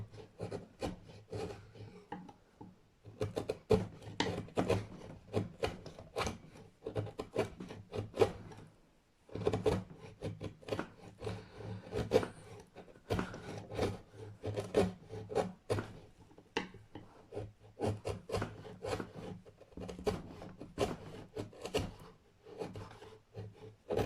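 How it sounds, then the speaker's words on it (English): Sandpaper rubbed over the nut shelf of a Jackson guitar neck, a steady run of dry, scratchy back-and-forth strokes, close and fairly loud, pausing briefly now and then, with no voices. "you put the sandpaper on the nut and use that to sand the shelf"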